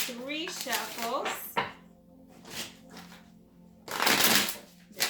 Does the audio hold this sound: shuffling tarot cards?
yes